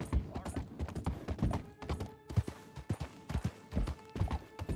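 Horse hooves clip-clop steadily in Red Dead Redemption 2, a brisk uneven patter of close, crisp hoofbeats with faint game ambience underneath.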